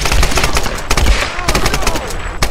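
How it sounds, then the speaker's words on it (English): Close-quarters shotgun fire in the Tomb Raider video game, several loud sharp blasts spaced irregularly over steady game background noise. "Since this is close quarters, I'll use my shotgun."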